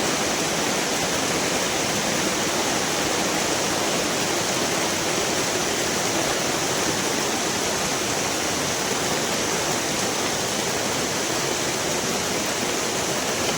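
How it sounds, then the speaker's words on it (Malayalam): Heavy rainwater rushing down a sloping concrete road in a downpour, a dense, constant roar of flowing water that stays loud and unbroken. "ആ താഴോട്ടുള്ള കോൺക്രീറ്റ് റോഡിൽ കൂടെയൊക്കെ ഭയങ്കരമായ വെള്ളം, അതുകൊണ്ട് താഴോട്ട് നല്ല ഒഴുകി പോകുന്നു."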